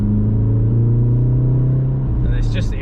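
A VW Golf GTI Clubsport S with 370 bhp drones steadily at cruising speed, a loud, continuous low engine hum filling the cabin, with brief voices near the end.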